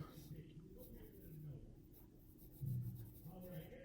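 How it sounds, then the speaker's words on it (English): A pencil draws a circle on paper with soft, close scratching strokes that come in short bursts, heard under a quiet speaking voice. "I'm just gonna start by drawing a circle like that."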